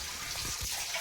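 Water is poured into a clay pot, giving a steady broad rush with a few low gurgling swells, close and continuous for about a second.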